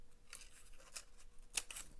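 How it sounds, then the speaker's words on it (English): Scissors snip through a thin folded paper bag for a bag-book craft, a few close, crisp cuts with a sharper snap near the end, heard alone in a quiet room. "And then you just cut it the other way, Lene."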